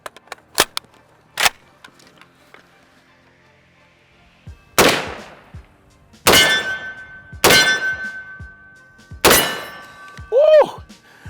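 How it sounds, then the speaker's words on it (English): An FN SCAR 17S .308 rifle fired one-handed gives four loud, sharp shots spaced a second or two apart. Each crack rings and decays after it, and a few faint clicks of handling come before them. No one speaks. "One thing I always like to do to test recoil is shoot a rifle one-handed and see how the barrel jumps"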